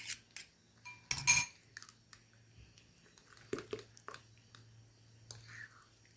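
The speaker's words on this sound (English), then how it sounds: "So I'm going to mix my butter, flax eggs," A utensil mixes butter and flax eggs in a bowl for coconut flour bread, giving scattered soft clinks, taps and scrapes against the bowl with quiet gaps between them, close and faint.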